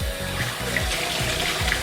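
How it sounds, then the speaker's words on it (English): Warm water pours into a container being filled to a marked line of about two gallons for sanitizing, a steady close splashing rush with a rhythmic low pulsing underneath. "you're wanting to fill your water to this line"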